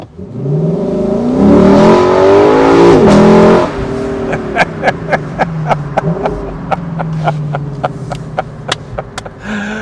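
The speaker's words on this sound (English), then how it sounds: "Let me accelerate just a little bit here, and you'll see how quickly this engine note intrudes" A 2023 Lexus LC 500 engine roars loudly as it accelerates, pitch rising, then drops off into a series of sharp pops and crackles from the exhaust.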